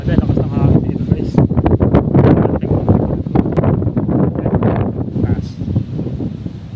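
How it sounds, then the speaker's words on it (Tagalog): Strong wind buffets the microphone in loud, gusty bursts during a solo TMX Alpha motorcycle ride to Dinggalan, continuous throughout while someone talks over it. "Lakas ng hangin dito guys."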